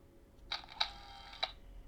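An X12 digital camera takes a picture, with a few faint, quick mechanical clicks and beeps close by in an otherwise quiet room.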